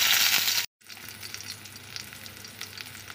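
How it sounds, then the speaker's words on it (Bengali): Nigella seeds and green chilies hit hot white oil with a loud bright sizzle, a brief cut of silence, then steady crackling frying with occasional stirring, close and alone. "তেলটা গরম হয়ে গেছে, আর এখন দিচ্ছি এই যে কালো জিরে"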